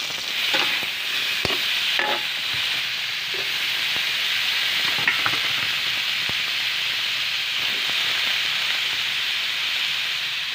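Shrimp frying in a hot pan, a loud continuous sizzle with steady hiss and occasional stirring clicks and scrapes, close up and without talking.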